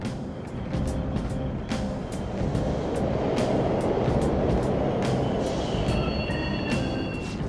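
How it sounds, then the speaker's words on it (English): A subway train in the video game Persona 5 Royal rumbles loudly and continuously, with a low roar, intermittent metallic clacks and a faint high squeal of wheels toward the end. "The trains are totally running!"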